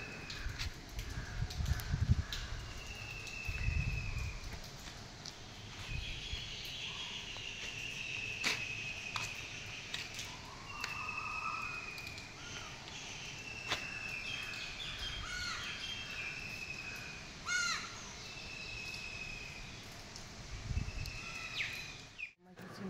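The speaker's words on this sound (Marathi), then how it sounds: "पक्ष्यांचा किलबिलाट।" Early morning birdsong at 6 a.m. carries outdoors, with crows cawing, repeated whistled calls and insect chirring at moderate distance, a few low thumps near the start and a brief knock at the end.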